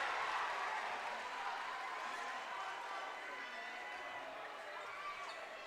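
High school varsity basketball student section crowd roaring during a free throw, a dense sustained wash of cheering and noise in a gym that slowly fades a little, with no clear talk over it.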